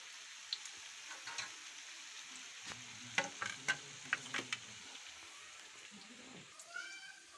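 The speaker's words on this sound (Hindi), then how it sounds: "ये देखें पकौड़े बना रही हूँ।" Chicken pakoras fry in a pan at home during the rainy season, a soft steady sizzle with scattered light clicks and stirring taps, fairly quiet and close.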